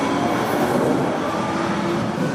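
An NJ Transit train rumbles loudly and steadily from inside the car, a dense, continuous rail roar with no distinct clacks or speech.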